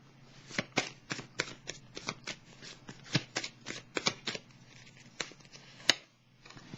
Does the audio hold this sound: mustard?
no